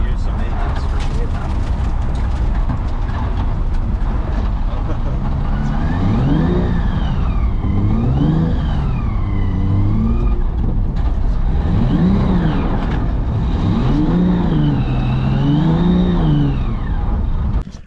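A BMW 135i drift car's engine idles unevenly, then revs up and down in several rising and falling sweeps, loud and close, with someone talking over it.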